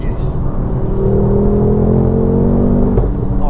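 Mountune MR375 tuned Mk2 Ford Focus RS accelerating hard, its engine and exhaust rising in a loud, sustained rumbling drone, heard up close from inside the car, with a brief sharp pop near the end.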